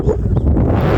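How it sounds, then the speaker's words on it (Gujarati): Strong wind at the lakeside Khodiyar temple in Rajpara, Bhavnagar, buffets the microphone in a brief, loud, low rumbling gust lasting about a second. "કેટલો પવન અહીંયા આવે છે."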